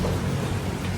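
Steady rain falls alone throughout, a dense even wash of drops on surfaces with a low rumble beneath, close and continuous with no voices.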